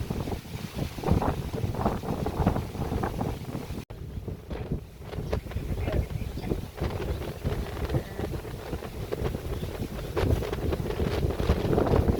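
Strong wind buffets the microphone continuously on rainy Coron, Palawan, gusting in loud rumbling waves with no speech.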